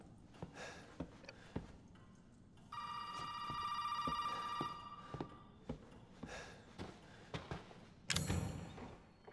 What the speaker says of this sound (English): Oh, phone call again.